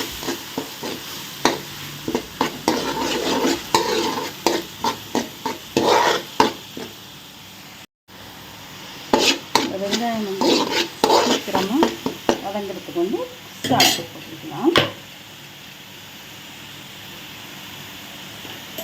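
Onion paste stirred in a hot pan for mackerel fish curry, with steady sizzling broken by repeated scraping strokes of a spoon, loud and close throughout.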